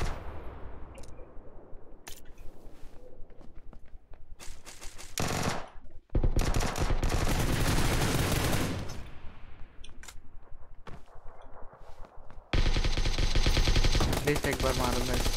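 Rapid bursts of automatic gunfire from the PC shooter game PUBG PC Lite, loud and near, in dense stretches separated by brief quieter gaps, with some faint voice underneath.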